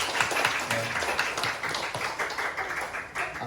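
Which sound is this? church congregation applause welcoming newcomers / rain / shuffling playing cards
church congregation applause welcoming newcomers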